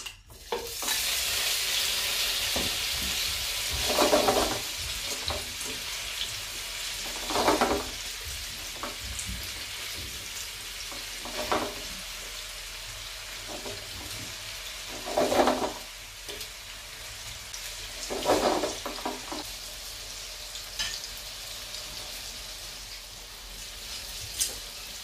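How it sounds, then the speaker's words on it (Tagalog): Tofu fries in hot olive oil in a pan, giving a continuous bright sizzle with periodic louder bursts as pieces are stirred or turned. "piprito muna natin itong ating tofu or tokwa. Pero may kawali na tayo at nilagay ko na rin yung olive oil at mainit na rin yung ating kawali"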